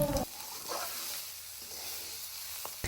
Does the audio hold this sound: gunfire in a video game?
no